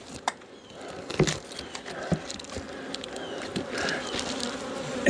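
Honey bees hum and buzz around a Flow Hive being winterized, a steady close drone with scattered sharper passes and small knocks as the hive is handled.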